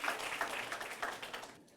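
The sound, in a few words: audience applause for a competitor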